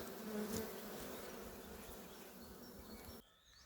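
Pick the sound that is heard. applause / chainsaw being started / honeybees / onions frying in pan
honeybees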